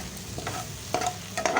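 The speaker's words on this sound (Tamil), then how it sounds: "இப்போ சிம்மில் வச்சு நம்ம வாழைக்காயை பரட்டி மட்டும்தான் விடணும்" Raw plantain pieces are stir-roasted in a pan over a low flame, with a gentle sizzle under a few brief spatula scrapes and stirs.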